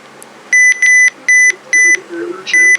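Five short, loud electronic beeps in an even rhythm, each a bright steady tone, with faint background noise between them.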